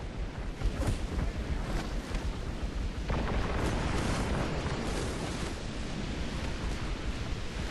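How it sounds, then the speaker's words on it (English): Multi-barrel rifles of the Empire fire in a Medieval 2 battle, producing a dense, continuous roar of overlapping gunfire and rumbling blasts that holds loud throughout. "we got the multi-barrel rifles starting to firing now"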